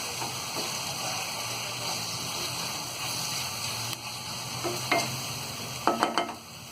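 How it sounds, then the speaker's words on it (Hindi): Green coriander is stirred into a guava chutney in a pan: a soft sizzle runs under scraping spoon strokes, with a few clearer clinks and scrapes toward the end. "हरा धनिया डालने के बाद में इसे हम अच्छी तरह मिक्स कर देंगे"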